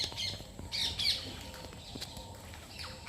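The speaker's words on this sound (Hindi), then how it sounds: "अब तोते भी आ गए हैं" Parrots squawk in short, harsh bursts at a stupa in the early morning, several calls close together and moderately distant over a quiet background hum.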